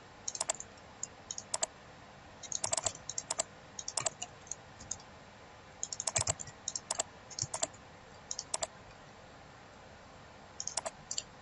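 Keys clatter on a computer keyboard in scattered quick bursts with short pauses as a username and password are typed into a university academic portal login, close and crisp over a quiet room, with no speech.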